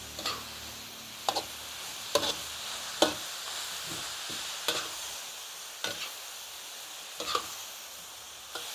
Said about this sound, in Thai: ใส่ลงไปผัดเลยค่ะ